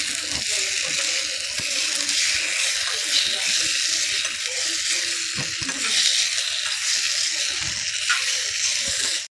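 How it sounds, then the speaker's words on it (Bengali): Marinated chicken frying in a miniature kadai, a steady bright sizzle with occasional stirring clicks and scrapes, close and fairly loud throughout. "তারপর আমি ভালো করে ভেজে নেব।"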